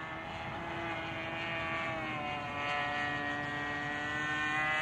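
The electric motor of a Seagull Models PC-9 RC model airplane whines steadily overhead in flight, a continuous tonal buzz with a slight rise in pitch, moderately distant and without talking.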